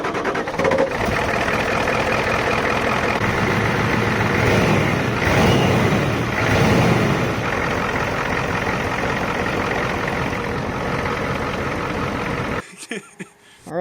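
A Ford 7.3 IDI turbo diesel engine, an XLT pickup, runs loud and steady with a rough, clattering idle for about twelve seconds, then cuts off abruptly into near silence.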